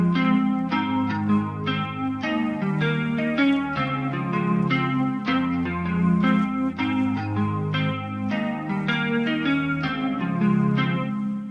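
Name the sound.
vinyl crackle, wobble, distortion, reverb effects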